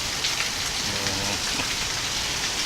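Heavy rain pours steadily onto surfaces in a dense, loud, continuous hiss, with no break and no voices.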